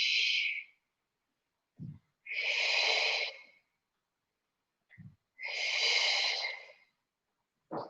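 During a beginner Pilates arm exercise, slow audible breaths alternate with short sniffing inhales, a steady rhythm of long exhales and brief intakes, close and fairly quiet with no talk.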